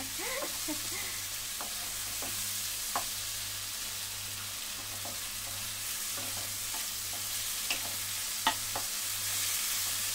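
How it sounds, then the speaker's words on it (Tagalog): Pork sizzles steadily in a frying pan while being stirred, with a constant hiss of frying and a few light scraping clicks from the utensil, no talking. "Halo-haluin ang pork."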